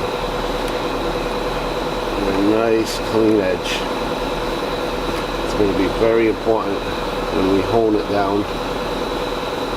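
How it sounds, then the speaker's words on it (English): Air compressor running steadily in a workshop during shear sharpening, a constant low hum and hiss in the background beneath a man's close speech. "That noise is the air compressor"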